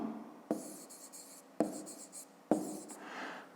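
Hand writing of math on paper, with three sharp pen-down taps followed by scratchy strokes, quiet and close with no talk.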